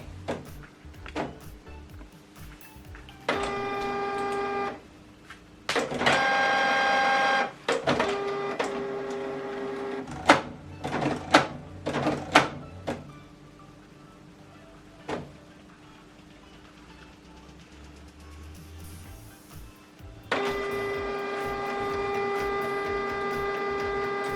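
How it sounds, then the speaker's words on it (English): A printer connected to a laptop prints a document, with whirring feed bursts, rhythmic mechanical ticking and clicks, and sharp paper-handling knocks separated by quieter pauses, close up and without talk. "So this document now is going to print out from here."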